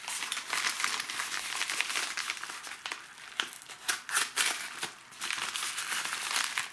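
Crinkling plastic packaging of Nakamichi banana-plug speaker connectors being torn open, a continuous close rustle with sharp crackling bursts throughout, no voices.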